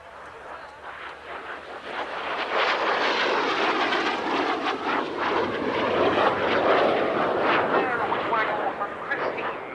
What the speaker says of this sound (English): This display was flown by Chris Heames, probably one of the most experienced classic jet pilots in the world